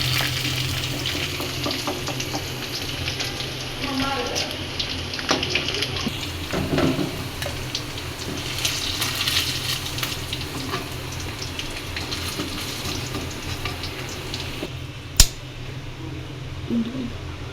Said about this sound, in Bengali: আস্তে জালে নেড়ে চেড়ে এভাবে ভেজে নিতে হবে